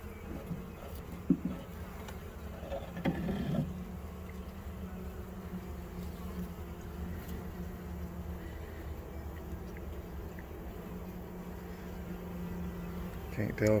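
Bees hum continuously inside a swarm trap where comb has been drawn, a close, steady, low drone with a few louder passes near the microphone, and no talking.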